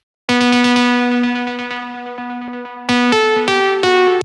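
A bright, harmonically rich synthesizer lead plays a remake of a song. It opens with a fast stuttering run on one note, then moves into louder sustained notes that step in pitch, with no other sounds.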